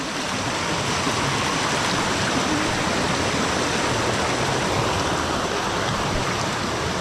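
The Dumakaa River flowing strongly with high water, a loud, constant rushing roar close at hand that fills the whole stretch without voices.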